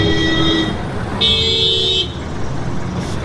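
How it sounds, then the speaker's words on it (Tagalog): Two long car horn blasts sound one after another over a steady roar of heavy road traffic near San Pablo City, Laguna, the second louder and held for nearly a second. "Kaya mga busina ng mga nagmamadali na tao, mga problemado sa buhay."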